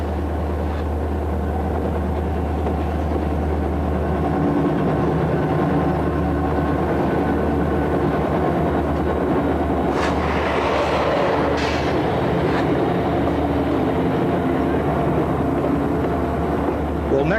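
Norfolk & Western and Southern diesel locomotives, unit 6606 among them, haul a northbound freight section upgrade toward Melrose near Saluda, a steady heavy engine drone with rumbling cars and a few sharper bursts partway, under narration.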